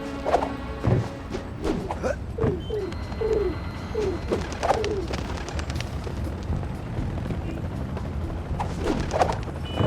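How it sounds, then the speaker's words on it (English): Pigeons coo repeatedly at night over a Paris rooftop in Sly Cooper: Thieves in Time, soft low warbling calls recurring under faint ambient hum and a few sharper thuds. "Pigeons everywhere."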